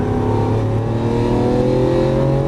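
A Lamborghini Aventador LP700-4 pulls on the race track under throttle, its engine a loud, close, sustained drone that climbs steadily in pitch as it accelerates, with no voices over it.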